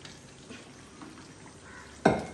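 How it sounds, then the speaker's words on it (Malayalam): Crushed ginger, garlic and green chili frying with onion in a pan for beef biryani, a soft, steady sizzle with light stirring scrapes, then a loud clatter of a utensil near the end. "അതിലേക്ക് ഞാൻ പിന്നെ ഇഞ്ചി, വെളുത്തുള്ളി, പച്ചമുളക് ഒന്നായിട്ട് ചതക്കിയത് അങ്ങനെ ചെരിയുന്നുണ്ട് ഞാൻ"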